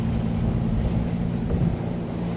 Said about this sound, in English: there's the wind picked up